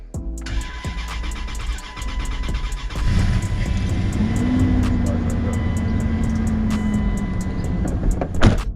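A 1999 Dodge Durango truck engine cranking and catching, then settling into a steady running rumble, close and fairly loud, with clicks and a rising whine near the start and a sharp knock at the end.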